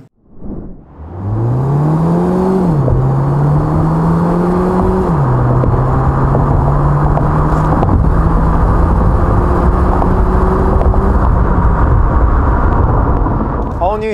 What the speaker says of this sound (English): check out the 0 to 60 times with this all-new Hyundai Elantra with hybrid powertrain then